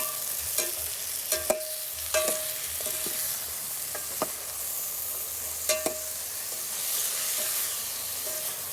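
Chicken sautés with garlic, onion and ginger for tinola, a steady close frying hiss punctuated by occasional sharp clinks and scrapes of a spatula against the pan.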